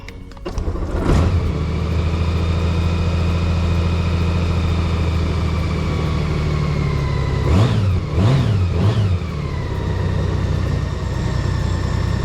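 A 6th gen Goldwing motorcycle with a 7-speed automatic transmission cranks and fires up, settles into a steady close idle, then gets three quick blips of the throttle before easing back to idle.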